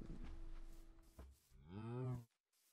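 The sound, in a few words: cows mooing in a video game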